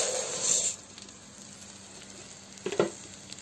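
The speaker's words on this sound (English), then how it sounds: "Now we'll go ahead to add the rice." Rice tipped into a pan of sizzling onion, curry powder, salt and margarine, a brief loud hiss at first, then quiet frying with a few stirring clinks.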